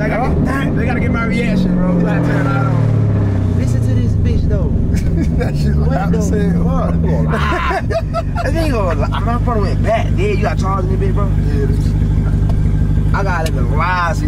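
A Jeep Trackhawk's engine in manual mode revs and swells with a deep rumble that climbs in pitch and then settles, heard from inside the car under loud, excited talk.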